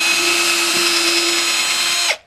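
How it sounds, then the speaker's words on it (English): A power drill fitted with a Forstner bit bores all the way through wood, a loud steady whine held for about two seconds before winding down abruptly. "we're going to take this Forstner bit, and we're going to go all the way through"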